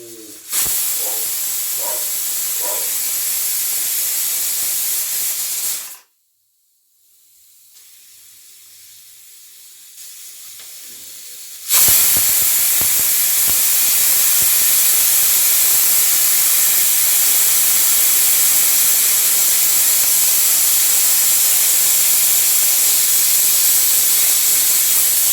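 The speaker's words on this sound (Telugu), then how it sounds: "2 విజిల్స్కి అన్నం అయిపోతుందండి" A pressure cooker cooking tomato and beans rice loudly hisses out steam in a sustained blast, drops to near silence for several seconds, then resumes with an even louder, steady jet of steam.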